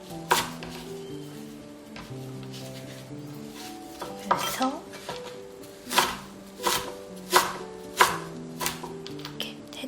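A knife cuts through acorn jelly on a cutting board in a home kitchen, several sharp chopping knocks landing against the board in an uneven rhythm, close and fairly loud, with clinks of dishes around them.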